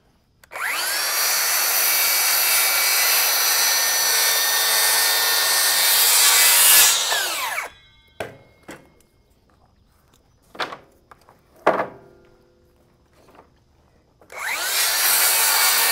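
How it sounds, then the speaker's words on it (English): Power saw cutting through 1x2 wooden furring strips, two long loud whining cuts separated by a quieter stretch of clattering wood being handled. "we're gonna cut some of this material up"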